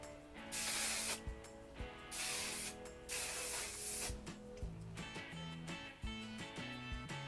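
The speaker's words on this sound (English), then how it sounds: "Use your hairspray." Hairspray hissing from an aerosol can onto hair styled for a 1960s bouffant, several long loud bursts of spray with brief pauses between them, and no one speaking.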